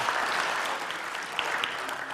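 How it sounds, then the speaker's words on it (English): A class audience applauding together, a steady wash of many hands clapping at moderate loudness with a few sharper individual claps standing out, no voices on top. "Let's give him another hand."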